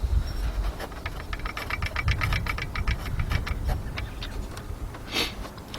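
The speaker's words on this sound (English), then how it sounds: "a lot of times it's one of the pulleys that's rattling" Rattle from a 2007 Jeep Commander's 4.7 engine, likely a loose pulley: a fast, steady ticking clatter close up over the idle, fading slightly near the end.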